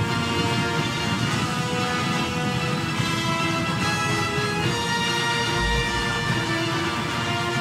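Steady rainfall in the Lost Ark video game background forms a dense, continuous hiss of drops with a low rumble underneath, constant and fairly loud without any voices.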